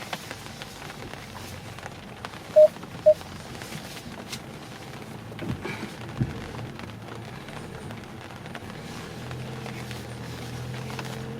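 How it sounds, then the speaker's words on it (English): Steady patter of heavy rain drumming on a 2006 Mazda 5 while driving on a Vancouver road, a constant hiss with the car's low rumble beneath and a couple of brief tones. "It's too much rain here in Vancouver."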